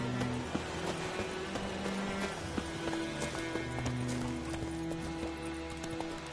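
A horse galloping in The Witcher 3, with rapid rhythmic hoofbeats in a steady clip-clop close by, set under sustained game music tones with no speech.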